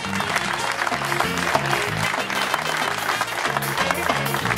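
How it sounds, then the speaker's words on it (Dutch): An audience at a street music festival claps loudly and continuously, while low rhythmic music pulses underneath the dense applause. "Ik denk dat ze uw applaus verdienen."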